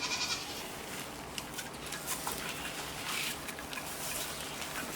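Goats bleating on a farm, with a rat snake close by; broadband, hissy farmyard sound carries faint calls throughout, and no voices are heard.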